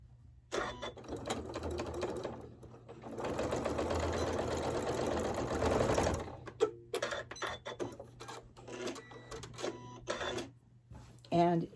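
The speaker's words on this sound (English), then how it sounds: "right where I have my pin marking this here is where I'm going to sew my seam" A sewing machine stitches a binding seam on a large quilt: a steady, close mechanical whir lasting several seconds, then stopping, with quiet handling clicks and rustles around it.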